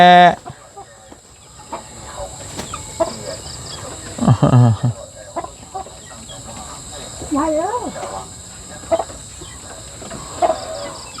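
Chickens cluck and squawk at a rural home, several short calls scattered among people talking, with one louder drawn-out squawk partway through and faint background noise throughout.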